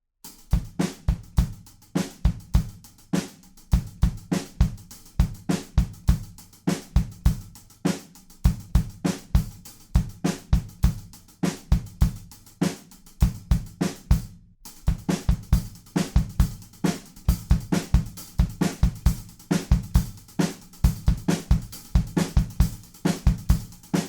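A steady drum kit groove with punchy kick, snare and busy hi-hats repeating in a tight rhythm, loud and continuous with a brief break midway.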